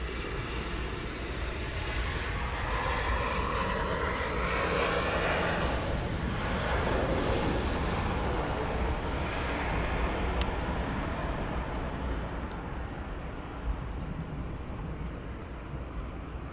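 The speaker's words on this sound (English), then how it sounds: "so Ryanair landing" A Ryanair airliner landing at East Midlands Airport gives a loud, steady broadband roar of jet engines and rushing air, sustained and close for the whole stretch with no voices over it.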